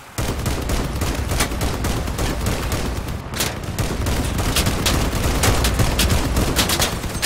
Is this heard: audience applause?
no